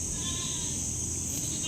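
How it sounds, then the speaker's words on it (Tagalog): Goats bleat on a small farm while being fed mango leaves; a few wavering calls sit close over a steady background hiss, with no talking. "Pinambili ko ng kambing. Ayan sila."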